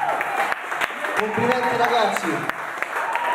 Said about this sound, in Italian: Un grosso applauso a loro e a tutte le altre band che hanno partecipato.